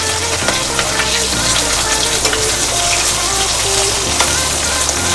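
A fish head fries in hot oil in a pan, a loud, dense, continuous sizzle and crackle heard close up with no talking.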